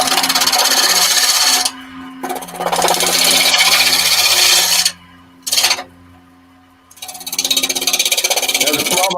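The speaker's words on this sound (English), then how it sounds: "So that's a noisy grinder." A noisy grinder runs loud and steady in a woodturning workshop, dropping out briefly twice and then starting up again.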